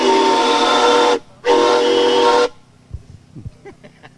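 A 1908 Stanley steam car whistle sounds two loud, hissing blasts close by, a long one and then a second after a brief gap, followed by quiet background noise.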